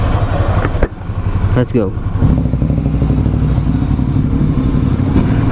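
A Ducati Scrambler 800 motorcycle fires up and rides off, its loud close engine rumbling steadily after a brief clatter of starting, while a voice speaks briefly over it.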